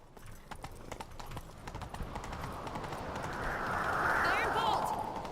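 A horse galloping in The Witcher 3, rhythmic clip-clop hoofbeats running steadily throughout, mixed with wind and game ambience and a voice calling out near the end.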